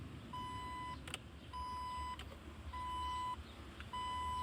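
A 2001 Jeep Wrangler turn signal relay gives a steady electronic buzzing tone in repeated pulses, about four long beeps with short gaps, close and clear over faint background rumble.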